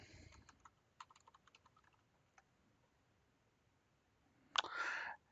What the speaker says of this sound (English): I'm going to enter my username and password.